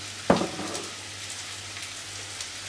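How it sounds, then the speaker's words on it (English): Fish with asparagus and broccoli fries in a pan, a sharp clatter as the vegetables go in, then a soft, steady sizzle that continues quietly to the end. "I'm going to add in the asparagus with the fish, because I want to cook this, or want to fry it until it's soft"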